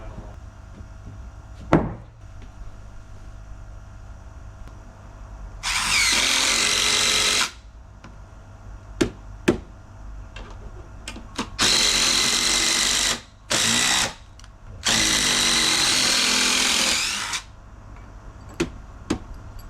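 Power drill driving screws into timber railway sleepers for a pond frame, several bursts of loud whirring drilling between sharp knocks and clunks, close and alone.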